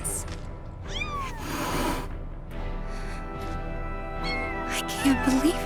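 Kittens meow in Final Fantasy VII Rebirth, a few thin rising cries over game music and speech, with a brief high mewing near the end.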